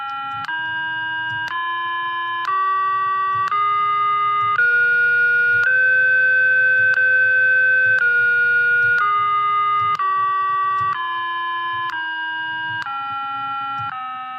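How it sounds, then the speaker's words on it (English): Synthesized pure tones step through the notes of raga Maya Malava Gaula, rising one sustained note at a time and then descending, steady and loud with a faint low hum beneath. "These are the notes of the raga Maya Malava Gaula."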